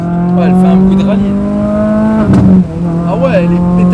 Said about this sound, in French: elle fait vraiment un bruit de rallye